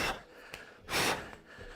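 Sharp, breathy gasps and exhalations from a person during a fitness workout session, a few loud bursts spread over two seconds with one strong central breath, no talking.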